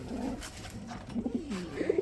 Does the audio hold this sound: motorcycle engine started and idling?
no